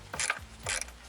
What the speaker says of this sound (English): I have a T40 half-inch bit, and I used a 5/16 ratchet wrench